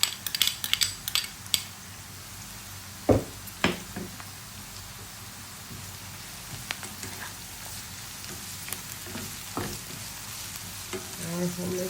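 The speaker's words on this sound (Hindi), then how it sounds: "ये डाल रहे हैं इसके अंदर हम लहसुन अदरक का पेस्ट," Garlic ginger paste fries with chicken in a pan for a chicken bhindi masala, giving a soft, steady sizzle broken by a few sharp spoon clinks and scrapes, loudest near the start.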